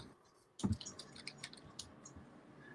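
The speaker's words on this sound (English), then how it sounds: "I heard you typing" Faint, scattered clicks of fingers typing on a computer keyboard, with one sharper tap followed by a loose run of light keystrokes in a quiet room.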